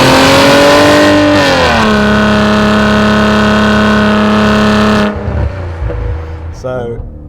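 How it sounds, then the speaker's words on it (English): A 2018 Maserati Levante S GranSport engine in sports mode roars loudly and close, its pitch sliding down after a rev, then holding a steady throaty drone before cutting off abruptly, followed by quieter background noise. "This sounds like what a Maserati's supposed to sound like."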